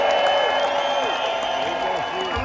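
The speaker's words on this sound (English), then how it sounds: "Can we get a big, huge round of applause for JGB and Melvin Seals?" An audience applauds and cheers for JGB and Melvin Seals at an outdoor Jerry Garcia tribute show on a New Hampshire farm, a steady crowd wash with a bright sustained whistle tone over it.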